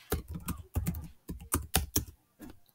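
Keys tapped on a computer keyboard in quick, uneven clusters of clicks with short gaps between them, fairly close and clear, with no speech.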